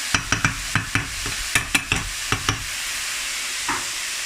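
Garlic dropped into a hot frying pan for a ground beef sandwich, sizzling steadily while a utensil stirs with a string of sharp clicks and scrapes against the pan, close up.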